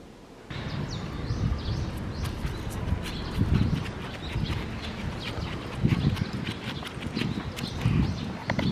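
Small birds chirping and singing in a park on a summer day, bright intermittent calls over a busy background of footsteps and rustling, with no clear talk.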